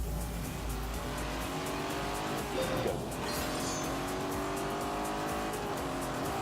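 A Lamborghini Urus with a V8 engine racing in The Grand Tour video game: a sustained engine roar with rising and falling gear revs, tire squeal and skidding, loud and close, with a brief spoken word.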